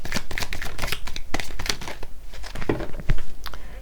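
Oracle cards are shuffled and drawn by hand, giving a dense run of close, quick riffling and flicking card sounds that continues throughout with a few sharper snaps.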